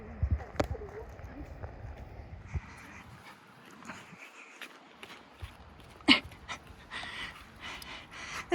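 A dog pants rapidly nearby on the Appalachian Trail, with soft footsteps and faint movement noises, plus quiet voices in the background.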